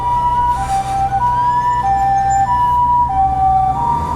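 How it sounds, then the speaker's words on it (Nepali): An ambulance siren on a road in Japan sounds a steady two-tone hi-lo wail, alternating evenly several times, loud and fairly close over low traffic rumble, with no talking. "दमकलकै एम्बुलेन्स आयो।"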